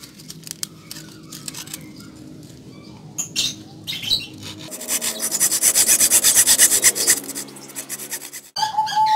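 A hacksaw (metal-cutting saw) rasps back and forth through plywood, starting with scattered scrapes and settling into steady, loud rhythmic strokes close by.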